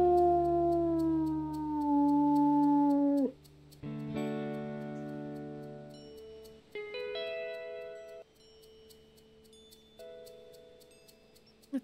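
A wolf in the video game WolfQuest 3 howls in a long sustained tone that bends downward, then shorter howls answer in layered pitches, clear and fairly close with no talk over them.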